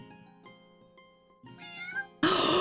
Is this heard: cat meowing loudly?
yes